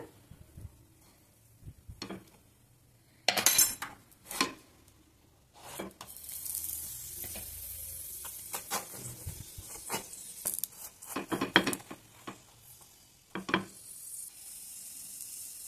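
Sesame-jaggery poli frying in ghee on a pan, a soft steady sizzle with scattered crackles and sharper scraping stirs, fairly quiet and close, no voices.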